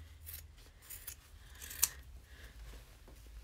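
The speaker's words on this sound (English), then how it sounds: "I'm gonna go ahead and trim the rest of this to the seam allowance" Scissors trim sewn fabric down to the seam allowance for a clutch bag, a quiet close snipping and rubbing with one sharp distinct cut near the middle, alone without talk.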